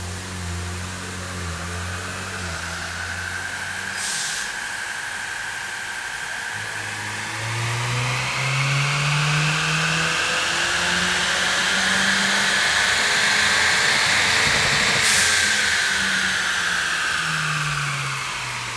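A 2015–2022 Ford Mustang EcoBoost with a front-mount intercooler roars through a full dyno pull, engine note rising steadily and loud from start to finish with a brief shift-like dip partway through, no voices over it.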